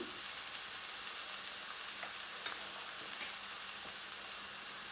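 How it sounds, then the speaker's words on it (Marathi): Ginger garlic paste sautéing in a pan for pav bhaji, a steady soft sizzle and hiss that holds evenly throughout with faint occasional ticks, no voices. "आता हे चांगलं मिनिटभर परतून घ्यायचं आहे"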